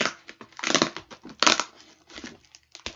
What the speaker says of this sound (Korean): 오늘 그래서 언박싱 해보려고 가지고 왔어요